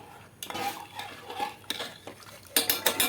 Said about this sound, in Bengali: এবার খুব ভালো করে আরেকবার নাড়িয়ে নেবো হাতা দিয়ে